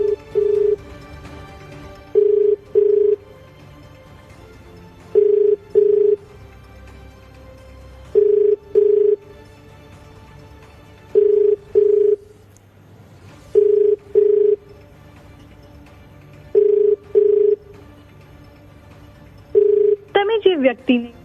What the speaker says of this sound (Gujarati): આપ જે રીતે સાંભળી રહ્યા છો કે સતત ફોન કરવાનો અમે પ્રયત્ન કરી રહ્યા છીએ